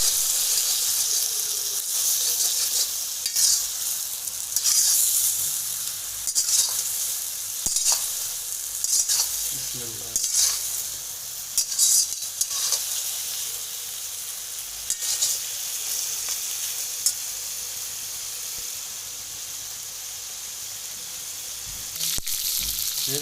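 Chicken frying in a karahi with ginger garlic paste gives a loud, steady sizzle. Scraping stirs recur throughout, with no talk over it.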